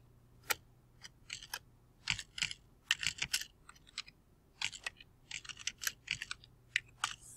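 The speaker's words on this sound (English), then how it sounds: "type your name" Fingers type on a computer keyboard in quick, irregular bursts of crisp clicks with short pauses between them, close and fairly quiet against a low background hum.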